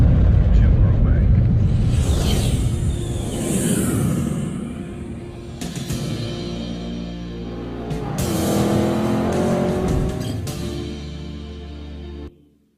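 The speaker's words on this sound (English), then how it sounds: "you will hear and feel sports cars flying past you" Sports cars roar past in a spatial audio demo at a phone launch event in Zürich, engine noise swelling and sweeping across in loud passes that rise and fade over several seconds.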